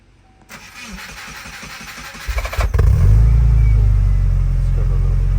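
A Subaru Impreza WRX (GC8) engine with a newly fitted Prodrive exhaust, no longer leaking, cranks and starts, then settles into a loud, deep, steady rumbling idle.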